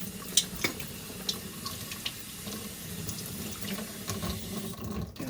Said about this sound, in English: So what I'm just doing is rinsing them out with some soapy water